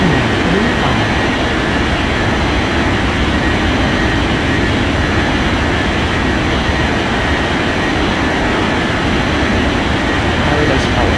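An airliner in an air traffic control game roars in a dense, steady jet rumble as it takes off, loud and continuous throughout.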